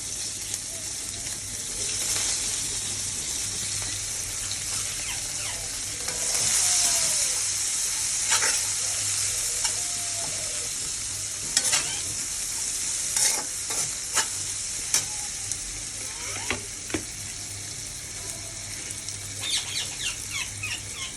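Onions fry in a pan with a continuous bright sizzle, punctuated by stirring scrapes and clinks of a spoon, close-up and steady with no talking.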